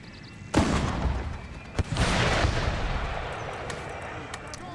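A musket volley fires in the video game Empire Total War: loud cracking gunfire bursts, a sharp opening blast and then a second round of shots, followed by a sustained rumbling din of battle.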